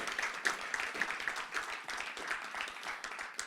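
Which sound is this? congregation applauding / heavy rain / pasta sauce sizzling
congregation applauding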